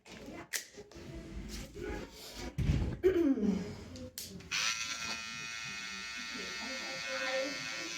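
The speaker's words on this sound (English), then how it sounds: "that's when I know I need to go back over it with my trimmer" An electric hair trimmer buzzes close by during a high fade haircut, kicking in partway through as a steady hum after stretches of talking and handling noise.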